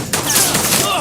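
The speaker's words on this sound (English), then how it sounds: "It's a pretty decent shootout, but the audio for these pistols are whack as hell" Pistol gunfire from a movie shootout, a busy burst of thin, cap-gun-like shots packed together over a loud, dense mix, with voices partly mixed in.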